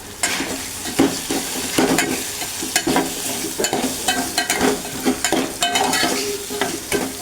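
Homemade spice masala and turmeric stir-fried in oil in a pan, with loud, close sizzling and frequent sharp scrapes and clinks of a spatula stirring against the pan, no one talking.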